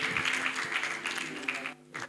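Audience applause at the ASCOM 2024 ceremony: dense, sustained clapping from a crowd fills the clip at a steady level and thins out briefly near the end.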